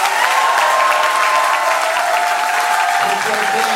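A church congregation applauding and cheering for Jesus, dense sustained clapping and crowd noise, with a held tone running underneath.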